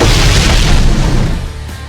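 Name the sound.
bomb explosion in the video game Blox Fruits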